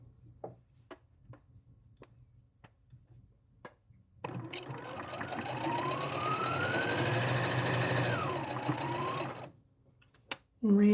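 A sewing machine stitches down the top of a fabric drawstring bag in one steady run of about five seconds, the motor whirring up and easing off, close by after a few light taps.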